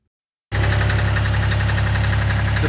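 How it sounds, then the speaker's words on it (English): A Volvo Penta MD2030 marine diesel starts up after a water pump replacement and settles straight into a loud, close, steady idle with a fast knocking throb and no talking. "plan now is to run the engine for about 30 minutes to warm it up"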